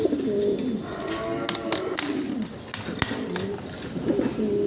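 A large pair of fancy pigeons coo in close succession, their low throaty warbles repeating under scattered sharp clicks and rustles from the surroundings, with faint voices in the background.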